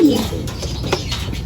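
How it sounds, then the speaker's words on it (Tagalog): Blue bar racing pigeon, a Vandenbroek cross with Japanese stock, gives a low, soft coo close by, with faint chirps and background noise around it. "First bird natin, yung blue bar natin na Vandenbroek, cross sa Japan."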